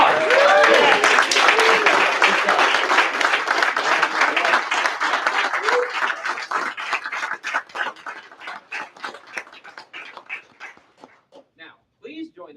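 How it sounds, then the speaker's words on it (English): An audience applauds at a military graduation ceremony, with dense clapping that slowly thins out into scattered claps toward the end. "Let's give them another round of applause."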